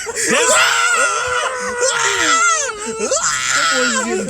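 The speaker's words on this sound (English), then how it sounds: "And Goku was screaming though." Goku, the anime character, screams at length in Dragon Ball Super: Broly, a loud strained shout that rises and breaks over about four seconds, with voices talking alongside it.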